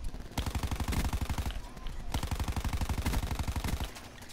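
An SMG in Black Ops 4 fires in rapid automatic bursts, several loud, close rattling strings of shots broken by short pauses, with other game sounds mixed underneath.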